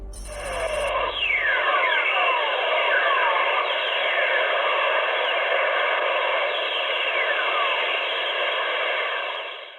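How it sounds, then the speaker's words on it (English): Whistlers, lightning radio waves picked up by spacecraft above Earth's ionosphere, sound as a bed of hissing static crossed by repeated descending whistling tones, steady and loud throughout. "This is what lightning sounds like on Earth from space as detected by spacecraft above Earth's ionosphere."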